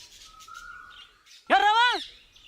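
A sparrow gives a loud, close, sweeping chirp in the middle, after a quieter thin whistled call and some faint rustle in an open field of ripening crops.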